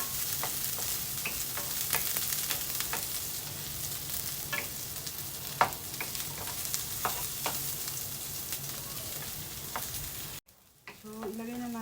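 Garlic and onion sauté in a hot pan, a steady close sizzle with scattered crackles and stirring scrapes that runs unbroken, then cuts off briefly near the end before resuming.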